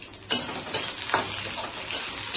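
Green chili, white sesame and cumin frying in oil for mutton kosha, a steady sizzle broken by a few sharp scraping stirs of the spatula against the pan, close and without voices.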